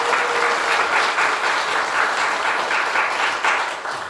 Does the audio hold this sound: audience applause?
yes